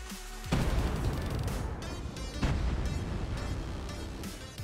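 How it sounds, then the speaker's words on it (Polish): A heavy dynamite explosion in Fortnite bursts in after a short moment, followed by several more booming blasts and rumbling debris as structures collapse, loud and close throughout. "Wystarczyło 2 odpowiednio podłożone dynamity, aby odsłonić sobie cały parter na wykrzywionych wieżach."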